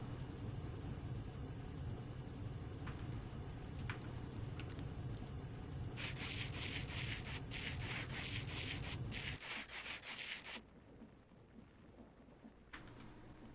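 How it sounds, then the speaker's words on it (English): Sandpaper scrubbing over gems in a video game, a brisk rhythmic rasping of repeated quick strokes over a steady background hum, stopping abruptly near the end, with no talking. "Definitely a legitimate way of shining up gems is to rub them all over with sandpaper."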